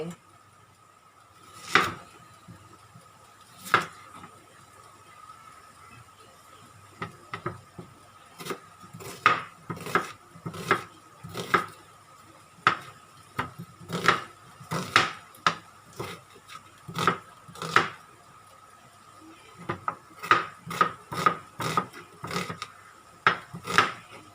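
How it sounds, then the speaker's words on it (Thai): Repeated sharp knife chops slicing a large onion on a cutting board, steady and close, with faint background noise between strokes. "จากนั้นเราก็มาหั่นนะคะหอม"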